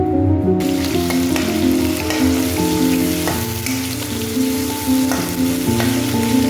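Onion, garlic, ginger paste and green chilies frying together in a pan, a steady loud sizzle with scraping stirs throughout, no voices.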